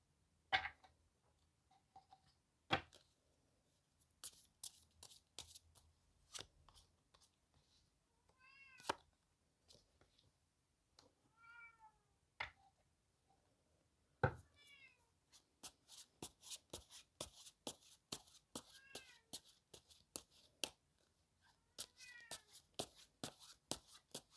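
A pet cat, fresh from a nap, meows repeatedly and insistently, several clear rising cries spaced through the stretch, close by and alone over soft household ticks and rustling, no talking.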